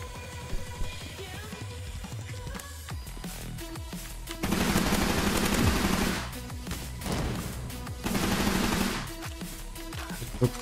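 Automatic weapon fire in the Roblox shooter Energy Assault, team deathmatch mode, with two long bursts of rapid gunfire against a busy game soundtrack of music and effects, plus scattered shorter shots.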